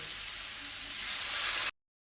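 Loud, steady sizzling and hissing as water hits a hot pan of spiced vegetables fried until the oil separates, building slightly before cutting off abruptly.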